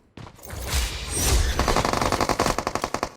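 Automatic rifle gunfire in the PUBG Mobile battle royale game, a loud rapid burst that settles into a steady rhythmic stream of shots, each sharp crack trailing off quickly.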